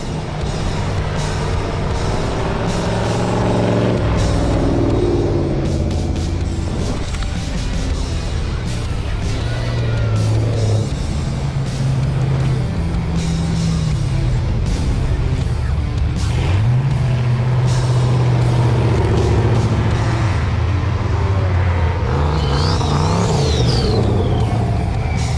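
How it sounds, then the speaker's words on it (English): Off-road vehicles on a snowy Blizzard Baja trail roar past one after another, engines revving and rising in pitch as they near, a dense and loud continuous rumble. "looks like the traffic has begun again"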